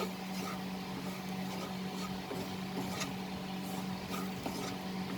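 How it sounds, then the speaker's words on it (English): Semolina and chopped vegetables are stirred and roasted together in a pan over high flame for upma, giving a steady faint scraping and rasping with light sizzle and occasional soft clinks, with no voices. "We'll roast the semolina with the vegetables."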